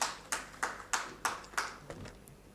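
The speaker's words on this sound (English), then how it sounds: "Kindly give a huge round of applause to our panelists as well." A few sparse, evenly spaced hand claps at an academic conference, fairly faint, rather than a full crowd's applause.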